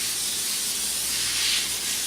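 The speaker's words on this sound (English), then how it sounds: "I'm going to spray it with a little bit of olive oil." Olive oil sprayed onto parchment paper on a cookie sheet, a steady close hiss lasting about two seconds with slight swells, no talk.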